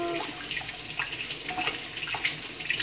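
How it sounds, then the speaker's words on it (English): Hands being washed under a running tap after painting, with a steady stream of water splashing into a sink and brief irregular splashes as the hands move through it, close and moderately loud. "I have just got my wash my hands."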